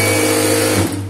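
A sewing machine runs stitching the sleeve of a chudithar top, a loud, steady, fast mechanical whir that slows slightly just before the end.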